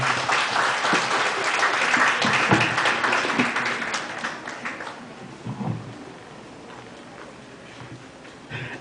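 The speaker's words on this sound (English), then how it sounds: "A big round of applause to Ma'am Mimi." Sustained audience applause fills a hall at a 2012 NAMCYA Northern Luzon Cluster music event in the Philippines, dense and loud at first, then thinning and fading toward the end.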